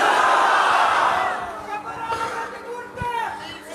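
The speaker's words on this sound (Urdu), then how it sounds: "چھوڑیے یار، چھوڑیے نعرے چھوڑیے" Crowd at a religious gathering raising chanted slogans together, a loud massed roar of voices at first that fades into scattered, softer crowd babble.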